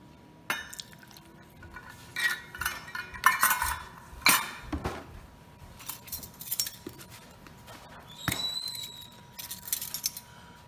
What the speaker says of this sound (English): we're going to go ahead and mix together the ingredients for our sauce